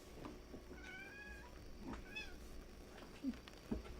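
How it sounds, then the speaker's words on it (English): A cat gives a few short, high meows close by over quiet room noise, with soft rustles in between. "This is my cat. You might hear her squeaking."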